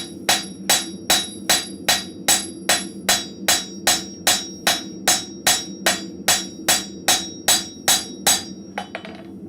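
A blacksmith's hammer strikes hot metal at a forge, shaping scrap metal into arrowheads. About twenty sharp, ringing blows land close in a steady rhythm of roughly two per second, ending in a few quick taps.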